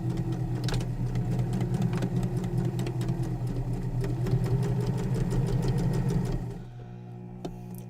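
A sewing machine runs steadily, stitching a 5/8 seam on a lined apron dress bodice, with a fast even motor hum and needle ticking for several seconds before it stops and leaves a faint quiet tail.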